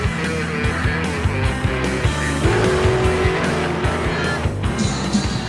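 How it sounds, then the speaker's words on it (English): A 1967 Mustang Coupe rumbles past close by, its engine loud and steady with a throaty rise as it goes by, under faint background noise. "Bob's 1967 Mustang Coupe."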